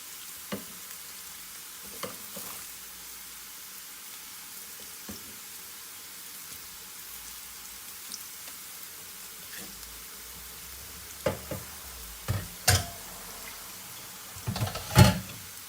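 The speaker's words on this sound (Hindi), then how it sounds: "चिकन हम लोग फ्राई कर लेंगे।" Chicken fries in a pan for biryani, a soft steady sizzle throughout, broken near the end by a few louder clatters and stirring knocks, close by.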